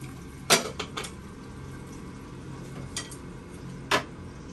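Cooking ham, sunny side up eggs and hotdog in a pan gives a low steady sizzle, broken by a few sharp clinks of a utensil against metal, close by and with no talk.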